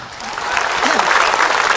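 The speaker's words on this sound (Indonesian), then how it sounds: "Tepuk tangan buat Ustadz Muhammad Nur Maulana" Studio audience applauding a preacher, Ustadz Muhammad Nur Maulana, on a televised morning religious program; dense, steady clapping from many people that swells slightly and carries on throughout.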